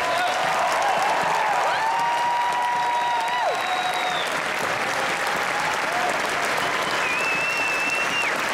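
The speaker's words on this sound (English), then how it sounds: "So if y'all could please just join me in a round of applause to appreciate these guys" Sustained audience applause fills the hall at the Arnold Classic 2017 bodybuilding awards ceremony, a dense, even wash of clapping with a little cheering mixed in throughout.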